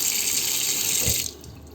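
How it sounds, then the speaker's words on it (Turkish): Tap water runs loudly into a burnt frying pan with a bright, steady rushing splash, then cuts off abruptly, leaving a quieter trickle. "İçerisine bir miktar su alacağım."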